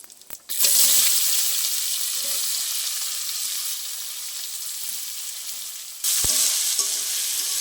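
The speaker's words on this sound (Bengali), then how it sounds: "এবার দিয়ে দেবো কেটে রাখা পেঁয়াজ।" Chopped onions drop into hot oil after the tempering spices and burst into a loud, close, hissing sizzle that holds steady, with a scrape and a fresh surge of frying near the end.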